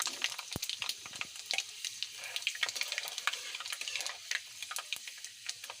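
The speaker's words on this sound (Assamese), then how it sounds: "এয়া মই অকণমান পাঁচফোৰণ দি দিছোঁ।" Panch phoron spices sizzle and crackle in hot oil, a steady bright spitting hiss with scattered pops and a faint clink near the start, fairly quiet and with no voices.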